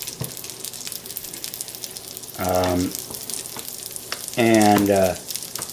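Onions frying in a pan over fairly low heat give a soft continuous sizzle. Two louder bursts of sizzling and stirring rise above it, close and fairly loud.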